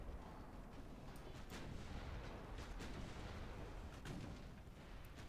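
A battleship gun salvo in the naval warfare game Ultimate Admiral: Dreadnoughts, fired from a superlight battleship, makes a loud, dense roar of overlapping heavy booms and rumbling blasts that continues throughout with no talking.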